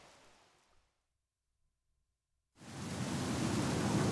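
A divine beast in the Zelda Breath of the Wild video game gushes water, heard as a broad roaring wash that cuts out into silence, then surges back loud and steady like heavy pouring rain or a torrent.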